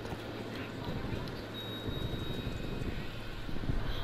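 A counter spy plane drones overhead in Call of Duty: Black Ops Cold War, a steady muffled engine roar under game noise and a fainter voice.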